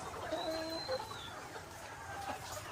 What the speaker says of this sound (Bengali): লেয়ার ওয়ান মুরগির ফার্ম